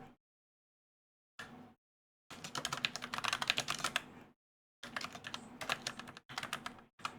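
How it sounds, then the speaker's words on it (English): Rapid typing on a computer keyboard while writing code, with dense clattering keystrokes in several bursts separated by short pauses, close and fairly quiet. "as I'm typing, I'm making all these not sign"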